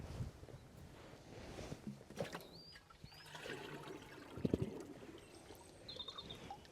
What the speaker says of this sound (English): I'm going to just take a watering can's worth of water out.